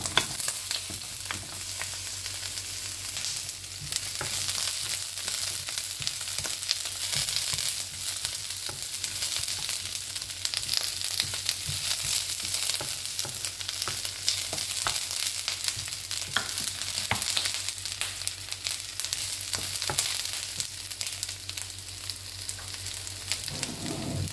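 Onions frying in oil in a pan, a continuous loud sizzle with occasional stirring sounds running the whole time, no speech.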